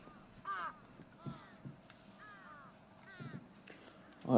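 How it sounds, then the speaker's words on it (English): Crows caw in a handful of separate calls spread across a quiet outdoor ambience in the Chaos;Head NoAH video game, moderately near and clear, with no talk over them. "I could faintly hear the sound of birds chirping atop the phone lines,"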